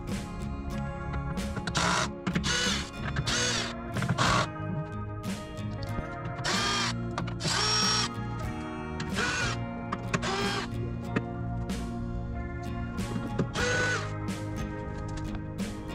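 A cordless drill whirs in repeated short bursts, driving bolts while repairing a BMW X5 E53 front bumper, stopping and starting with ratcheting mechanical clicks, close and fairly loud.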